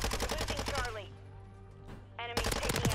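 Minibak SMG gunfire in Modern Warfare 3 comes as rapid automatic bursts with a sharp rattling rhythm, loud and close, separated by a short gap of quieter game ambience and a few ringing tones.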